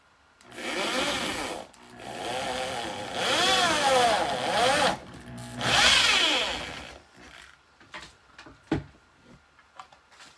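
Power drill boring holes through a skateboard deck for a wall light, several loud whining bursts rising and falling in pitch as the bit spins up and cuts, then quieter clicks and knocks as the board is handled.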